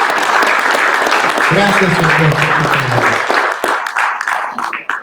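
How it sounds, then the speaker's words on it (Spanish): A church congregation applauds loudly and continuously while a voice speaks over the clapping, which thins into scattered claps at the end. "Denle fuerte el aplauso al Rey."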